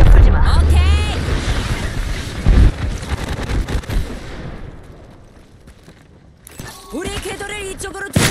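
Gunfire and explosive blasts in a team shooter video game, a dense run of heavy shots and booms over the first few seconds, then a quieter stretch before another burst returns alongside a voice speaking.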